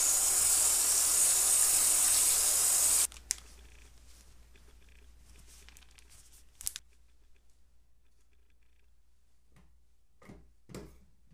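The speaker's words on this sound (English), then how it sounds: "So now we just gotta rinse all that defragging goo off." Tap water rinses a hard drive, a loud steady rush for about three seconds that cuts off abruptly, followed by quiet handling clicks and faint taps.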